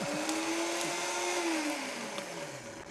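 A food processor whirs loudly and steadily, pulsing cashews into a vegan parmesan, its motor pitch rising and then sliding down as each burst winds down, with no talking over it.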